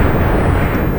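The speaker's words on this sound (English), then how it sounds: "Every time I hear the explosion of the volcano" Explosion of Acatenango volcano in Guatemala, a deep, loud rumbling boom that fills the moment, heavy and low like distant thunder.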